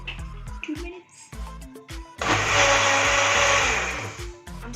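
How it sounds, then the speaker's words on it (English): Cake batter being whipped until fluffy with an electric blender: after some brief knocks and clatter, the motor surges to a loud, sustained high whine for about two seconds, then cuts back to quieter handling noises. "I'm still blending it. It needs to be fluffy."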